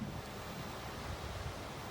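Cold wind blows off Lake Superior at a lakeside resort, a steady rushing, buffeting roar against the microphone with low surf-like rumble, continuous and moderately loud with no talk.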